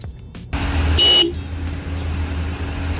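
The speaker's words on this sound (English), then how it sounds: "we are going to be doing a horn test" A single short horn honk from a 2022 Honda Civic Touring, loud and close, over a steady idling engine hum.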